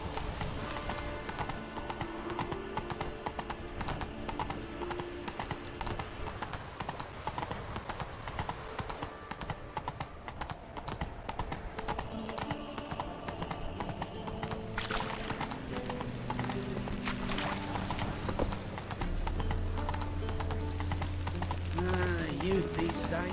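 Roach the horse galloping in The Witcher 3, a steady, rapid clip-clop of hooves running close and loud throughout, with a voice speaking over it now and then and music entering toward the end.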